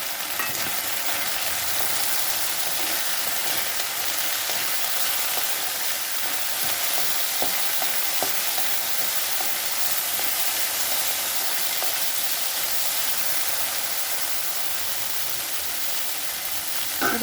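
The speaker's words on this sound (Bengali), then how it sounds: "এখন দিয়ে দেবো কুমড়োটা।" Pumpkin pieces fry with radish greens in a pan, a steady, loud hiss of sizzling oil with faint scraping clicks of stirring throughout.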